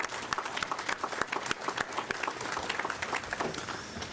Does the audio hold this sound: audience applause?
yes